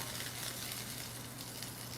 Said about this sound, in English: as soon as that bubbles, we're going to put in our sage. You'll hear a little sizzle.